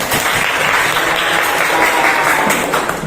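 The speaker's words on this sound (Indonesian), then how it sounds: "Tepuk tangan buat Helen." Loud, steady applause from a class or training group in a hotel-greeting practice session, continuous close clapping throughout with scattered sharper individual claps.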